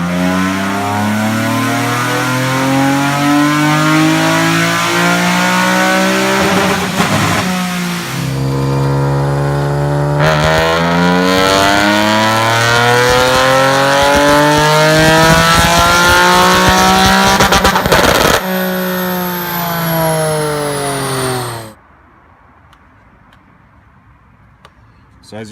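Car engine revving hard on a dyno after an intake swap, repeated rising wide-open-throttle pulls with climbing harmonic whine, very loud and close, then cutting off to a quiet hum near the end.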